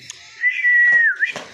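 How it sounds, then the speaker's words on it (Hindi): A referee's whistle blown at the start of a village wrestling bout: one sustained shrill blast of about a second with a slight dip at the end, loud and close, with crowd noise faintly around it. "ते चलो सीटी बजी"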